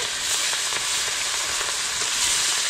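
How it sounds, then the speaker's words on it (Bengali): Katla fish pieces sizzle steadily in hot oil with cumin, a dense, close frying hiss with faint crackles running throughout, no voices. "এখন দিয়ে দিলাম মাছগুলো এক এক করে।"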